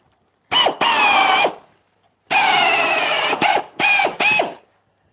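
Screws are driven into a rotten wooden board with a cordless driver in several short, loud bursts close by, the ratcheting whine of the tool starting and stopping between pauses.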